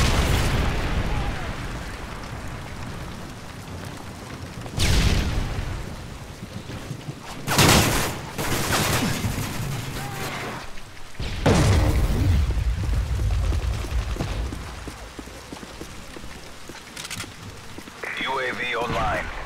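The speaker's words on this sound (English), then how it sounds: "Friendly Predator missile inbound." Predator missile blasts in Call of Duty Modern Warfare 3 multiplayer, several heavy booms and bursts spread across the stretch amid ongoing game noise, with in-game voice announcements heard between them.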